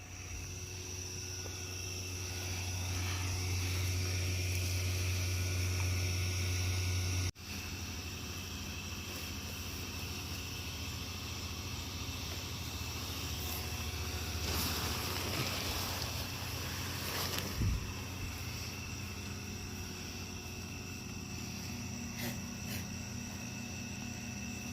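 A Halloween inflatable's blower fan starts up and hums in a steady, fairly loud drone that runs on continuously, with a brief drop partway through.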